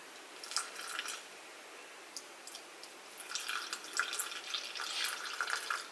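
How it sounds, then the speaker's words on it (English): Water being poured slowly into a bowl set on a kitchen scale while baking, a soft trickling and splashing, quiet and close, with no talk. "now I'm gonna do 50 grams of water. I'm gonna pour directly in there"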